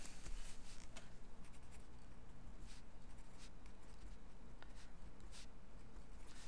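Pen or pencil scratching on paper while a statistics problem is written out by hand, a steady soft scratchy rustle with small ticks, close and quiet, with no talk.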